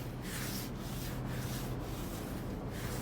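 A clay bar drags across rough, contaminated car paint with a gritty, rasping rub in steady back-and-forth strokes, close and quiet, with no voices.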